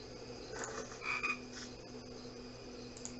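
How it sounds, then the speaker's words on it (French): In the hidden-object game Dark Parables, a frog croaks several times in short, scattered bursts over a quiet ambient game background, with no one speaking. "Encore une grenouille."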